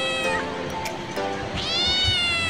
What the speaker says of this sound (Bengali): মিয়াও শব্দে বিড়াল ডাকে।